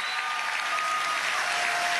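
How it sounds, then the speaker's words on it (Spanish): Audience applause at a Venezuelan youth event, a dense, steady clapping from a large crowd that fills the whole moment without a break. "mandarle un aplauso de la juventud venezolana al Sapeando número 1000."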